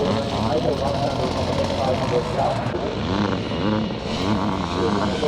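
Twinshock classic scramble motorcycles race past at a charity scramble in Northern Ireland, a loud continuous engine roar with rising and falling revs as bikes pass close, under steady commentary.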